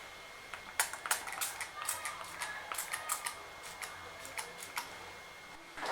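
A mist spray bottle filled with water gives a rapid series of short, hissy spritzes, close and fairly soft, in quick bursts with brief pauses between them.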